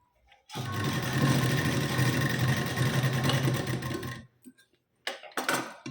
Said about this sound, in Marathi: यावर मी पुन्हा एकदा डबल शिलाई देऊन घेते.